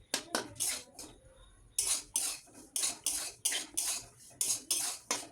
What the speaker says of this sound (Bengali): এখানে ভালো করে আমি নাড়িয়ে নিচ্ছি